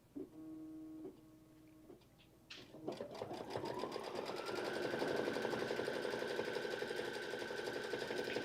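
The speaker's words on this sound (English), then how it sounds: "We're just going to sew across there one more time." A sewing machine stitches across a notebook cover, starting with a few short start-stop bursts before settling into a loud, steady, fast mechanical whir that runs to the end.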